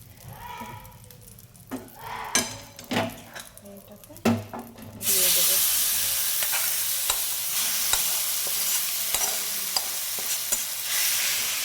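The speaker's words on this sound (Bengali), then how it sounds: "এই প্যানটাতে বসিয়ে ভেজে নেব কারণ এই প্যানটাতে খুবই সুন্দর ভাজা হয়" Rohu fish head frying in a pan, a loud steady sizzle that starts abruptly and continues without a break after a few seconds of scattered knocks and clatter.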